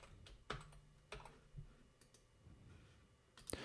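Computer mouse buttons click a few times, sharp, close and fairly quiet, with irregular spacing over a faint background, no talking.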